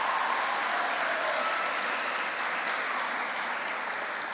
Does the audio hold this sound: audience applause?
yes